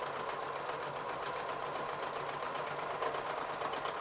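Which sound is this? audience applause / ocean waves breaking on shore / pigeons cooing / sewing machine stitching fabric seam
sewing machine stitching fabric seam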